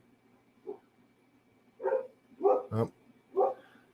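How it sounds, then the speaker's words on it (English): A dog barks indoors nearby, several loud, separate barks with short gaps between them, and a brief spoken word is heard at the start. "Dog's freaking out."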